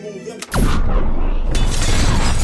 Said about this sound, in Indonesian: ruangan yang mereka tempati meledak